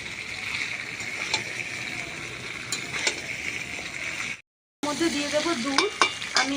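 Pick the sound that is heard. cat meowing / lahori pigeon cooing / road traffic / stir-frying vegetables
stir-frying vegetables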